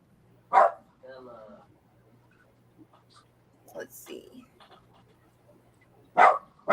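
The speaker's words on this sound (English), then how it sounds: "Hope the dog has something to say." A dog gives a few short, sharp barks spaced apart, near and fairly loud, with a person speaking briefly between them in a quiet indoor setting.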